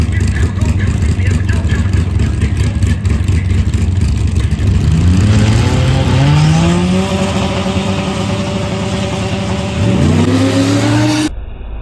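A drag race car launches and accelerates hard down the track, its loud engine note climbing steadily through several upshifts across a full pass, close and continuous.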